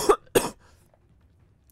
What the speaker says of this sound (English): I hope I'm going to stop coughing at some point